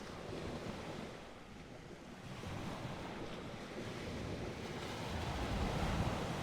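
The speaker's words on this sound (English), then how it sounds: "Have you seen the ocean before, Betty?" Ocean waves surge and wash continuously, a broad rushing roar with a windy edge, used as a sound effect in a stage play about a whaling ship captain, building slightly louder toward the end, no voices.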